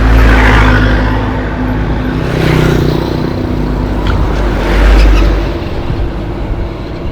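Tuk-tuks and jumbo vehicles drive past along a riverside road, engines swelling loud and fading in a couple of close passes over a constant rumble.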